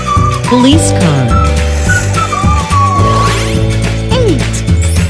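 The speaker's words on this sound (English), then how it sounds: "Police car." A police car in a children's learning cartoon, with loud, steady engine drone and rising and falling sweeping tones over busy music, close and continuous.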